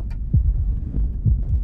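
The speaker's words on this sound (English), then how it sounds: "Why is my heart beating?" A heavy, low thumping heartbeat from a video game, with three or four double-pulse beats in steady rhythm, loud and close with no talk over it.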